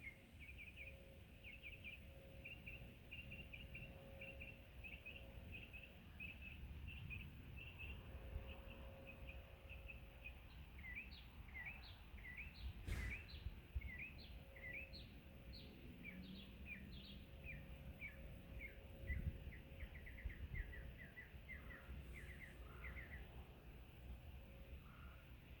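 Outdoors, a red-bellied woodpecker gives a run of short repeated chirping calls, faint and somewhat distant, over quiet background hum with scattered other bird chirps.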